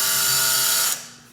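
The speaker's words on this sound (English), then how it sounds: "we drill a hole through the spring" A drill bores a hole through a steel clock spring barrel, a steady high-pitched whine lasting about a second before cutting off and fading away, with no voices.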